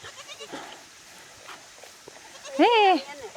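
A goat in a remote mountain village in Hunan lets out one loud, wavering bleat near the end, after a stretch of people talking nearby.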